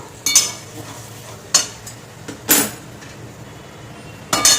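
Chicken goes into fried masala in a pan for chicken khichuri, and a spoon stirs it with four sharp scraping clinks spaced about a second apart over a faint sizzle.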